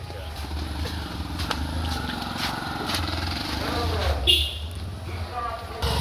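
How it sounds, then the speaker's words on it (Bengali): Dense road traffic of motorcycles, cars and CNG auto-rickshaws streams past in a continuous engine drone, with a few louder passes, while someone talks over it throughout. "কতক্ষণ মোটরসাইকেল কতক্ষণ গাড়ি দেখ হাজার হাজার গাড়ি"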